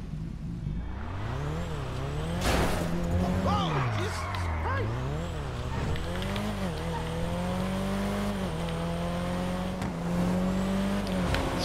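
An engine revs and shifts in a GTA 5 Online driving game with rising and falling pitch and occasional tire squeal, while someone talks over it.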